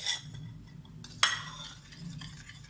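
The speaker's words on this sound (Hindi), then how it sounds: "उसको मैं अच्छी तरह से मिक्स करके इसका मैं बैटर बना रही हूँ।" Gram flour (besan) batter being mixed in a bowl, with soft wet stirring scrapes and a sharp clink of the spoon against the side, close and fairly quiet.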